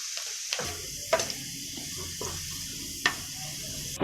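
Two small chopped onions sizzle in hot ghee for a dal tadka, a steady close frying hiss broken by a few sharp clinks and stirring knocks.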